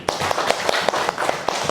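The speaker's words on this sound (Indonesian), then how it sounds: "kita tepuk tangan dulu untuk kita semua, nak" Children in a classroom clap their hands together in a short burst of several sharp, quick claps, close and moderately loud.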